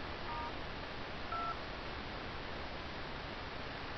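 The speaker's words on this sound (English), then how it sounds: "so first I'm going to go call Star 2" Two short DTMF keypad tones sound over steady hiss as a MetroPCS Samsung Instinct phone dials Star 2, one faint near the start and a louder one about a second later.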